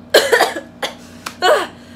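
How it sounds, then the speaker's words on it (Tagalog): A woman coughs in a short burst of about four coughs during a home workout, close and fairly loud, with brief gaps between them. "inuubo ako"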